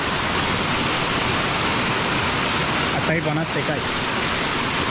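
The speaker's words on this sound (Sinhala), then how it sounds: "මේ වතුර වැක්කිරන එකට ඉතින් ඔළුව අල්ලගෙන නාන්න තමයි තියෙන්නේ" Cold water pours down at a natural bathing spot in a dense, unbroken roar that stays loud and even throughout, with a brief voice heard faintly through it around the three-second mark.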